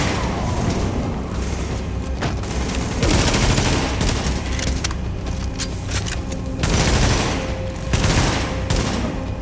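Heavy gunfire in a firefight from The Division, loud rapid bursts of automatic weapons and sharp booming shots clustered in several intense volleys separated by brief lulls, close and dominant.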